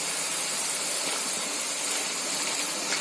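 Gobi Manchurian deep-fries in oil until crispy, a steady, close hiss of bubbling sizzle with no break, running for a few seconds.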